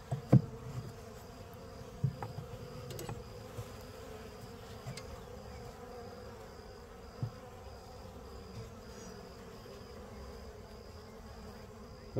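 Honey bees from a new package buzz steadily around an open hive with man-made comb, a continuous low hum with no talking and a few faint knocks.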